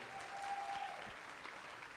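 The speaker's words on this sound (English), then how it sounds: "Come on, clap your hands, clap your hands, clap your hands" Faint, distant audience clapping at a mayoral debate event, a soft continuous patter of hands with a thin steady tone running briefly underneath.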